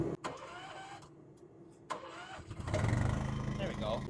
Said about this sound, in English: So I'm gonna turn my compressor on and pull the choke with you guys.